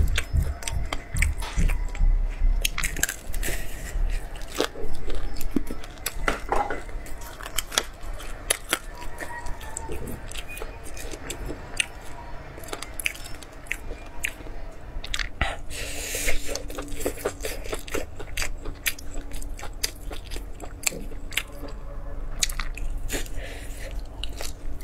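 Crunchy home-fried cartilage and meat skewers bitten and chewed up close, with a steady run of sharp crackling crunches and wet mastication throughout, no talking.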